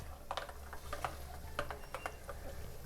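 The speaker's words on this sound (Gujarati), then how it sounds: "બેટરને આ રીતે હલાવી લઈશું ફરીથી એકવાર।" Lentil batter for instant Surati khaman made from soaked dal is stirred in a bowl, giving faint, irregular taps and clinks of the spoon.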